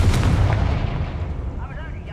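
Fiery Confringo spell blast from Hogwarts Legacy, a loud booming burst up front that rumbles and fades into a lingering crackle over about two seconds.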